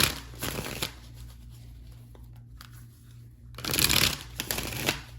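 A tarot card deck is shuffled close by, with a burst of riffling flutter, a quiet pause, then a longer, louder riffle near the end, and no speech.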